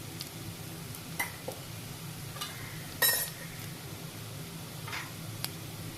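Rice with goda masala, chili powder and green chili being sautéed and stirred in a pan, a soft continuous sizzle with occasional clinks and scrapes of a spoon against the pan.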